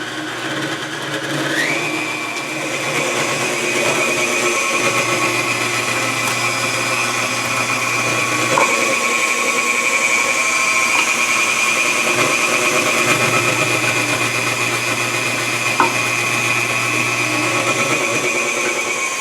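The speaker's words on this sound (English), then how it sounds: "it's best if the nuts are very finely ground. So I always use the finest setting in my KitchenAid." A KitchenAid mixer grinds nuts finely for potica filling, a steady motorized whine with a constant pitch that runs without pause, close and moderately loud.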